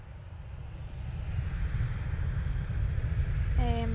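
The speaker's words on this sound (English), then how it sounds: "This one's a Velocity 1405 in a Boeing 737-700 up to Brisbane." A Boeing 737-700 airliner at Adelaide Airport produces a steady broadband jet roar that slowly builds in loudness over a few seconds, heard at a moderate distance with faint wind noise.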